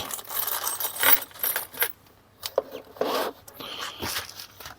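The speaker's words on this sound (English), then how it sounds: "Here we have hex keys for, let's take them out." Small metal hex keys from a HONGDUI router plane kit jangle and clink as they are pulled from their packaging, with rustling and scraping in short bursts close by and no speech.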